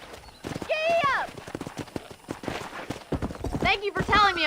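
Hooves clip-clop in a quick galloping rhythm as a horse runs in Red Dead Redemption, with loud whinnies at the start and end, and a rider's voice in between.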